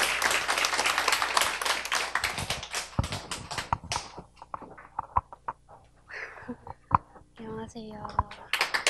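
Audience applause welcoming guests onto a stage, brisk dense clapping at first that thins into scattered claps, with voices and murmurs surfacing as it fades.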